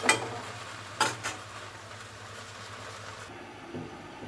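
Jute leaves being stirred and fried in a pan, heard as a soft continuous sizzle with a couple of brief scraping strokes early on, faint and alone without talk.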